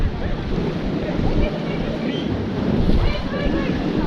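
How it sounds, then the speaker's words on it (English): Waves crash and churn continuously with heavy wind buffeting the microphone, a loud dense roar with no pauses. "the waves are crashing up through this whole area"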